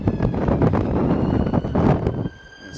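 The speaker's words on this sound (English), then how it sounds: "It's very windy up here on a cloudy London day." Strong wind buffets the microphone atop the Monument in London on a cloudy day, a loud continuous broadband roar with gusty swells that eases slightly near the end.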